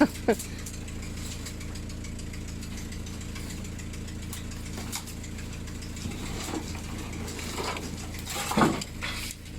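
A rough van engine idles steadily throughout with a rattling, clattering edge like an old tractor, some faint knocks and movement over the constant drone.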